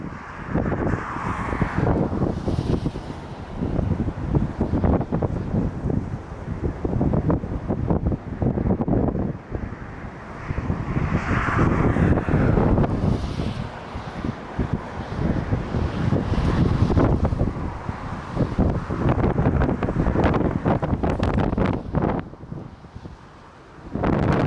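Strong gusting wind buffets a jet in flight, a loud, roaring rush that swells and fades in waves with dense low rumble and crackling turbulence, continuous throughout with no voices.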